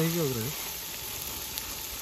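Mutton sizzles and fries in hot oil outdoors by a riverside, a steady soft crackle that runs throughout after a brief burst of a voice at the start.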